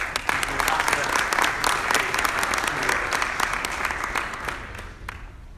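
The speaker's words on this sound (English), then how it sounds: "Please, a big round of applause to the ambassador." A large audience claps warmly at a conference event on artificial intelligence and robotics as Pakistan's ambassador to the UAE is welcomed, dense clapping with sharp individual claps that gradually thin out.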